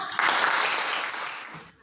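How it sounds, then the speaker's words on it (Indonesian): A classroom group of learners breaks into brief applause during a lesson, a burst of many hands clapping that starts abruptly and fades out after under two seconds. "tepuk tangan untuk semua"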